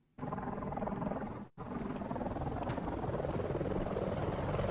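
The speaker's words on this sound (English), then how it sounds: "there is currently a Schwabenheim helicopter being deployed" A video game helicopter's rotor thumps and engine roar continuously, loud and close, briefly dropping out for a moment before resuming.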